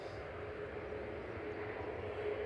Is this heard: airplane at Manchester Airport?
yes